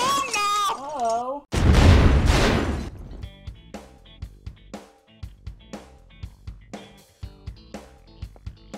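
Cartoon explosion, a sudden loud roaring blast after a comic voice, followed by a string of scattered pops and thumps fading out.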